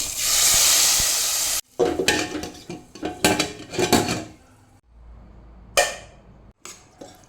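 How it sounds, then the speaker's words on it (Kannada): A hot tempering of garlic, curry leaves and hing is poured into a cucumber and jackfruit-seed curry, giving a loud burst of hissing sizzle. Metal pot and spoon clanks follow in scattered knocks and scrapes. "ಒಗ್ಗರಣೆಯನ್ನು ಹಾಕ್ತಾ ಇದ್ದೇನೆ"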